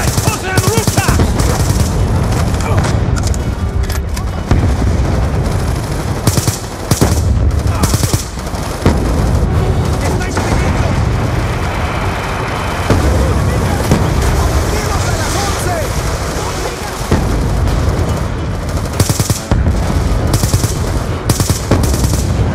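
Sustained loud machine gun fire in Call of Duty: Black Ops II, long dense bursts with brief gaps, amid other gunfire, shouted voices and a noisy battlefield backdrop.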